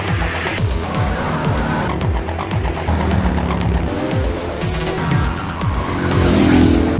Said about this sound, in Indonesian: Kejar-kejaran di jalan raya terjadi.